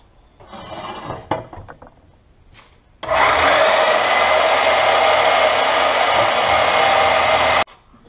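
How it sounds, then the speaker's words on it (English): Square metal tubing is cut into brackets for a Mustang drift car build. Quiet shuffling and handling come first, then a loud, steady cutting roar runs for about four and a half seconds and stops abruptly. "I'm gonna go get some square tubing cut up and get that all fitted."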